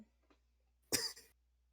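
A single sharp cough, brief and close, breaking an otherwise quiet moment.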